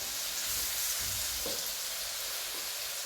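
Soybeans tossed onto hot curry leaves in a pan give a soft, steady sizzle with faint stirring scrapes, fairly quiet and without speech.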